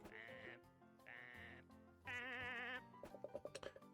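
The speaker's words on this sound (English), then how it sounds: "So I think those are sheep of 3 different colors." Sheep in an indie video game bleat three times in a row, clear and close, each bleat a wavering tone, followed by a quick series of short clicking blips.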